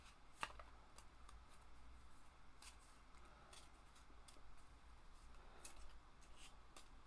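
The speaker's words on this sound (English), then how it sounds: "It's being partially shuffled." Board game cards are being shuffled by hand at a table, with soft repeated riffling and flicking sounds, faint and close, over quiet room tone.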